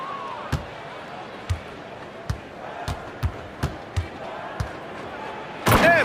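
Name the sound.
basketball slam dunk by Westbrook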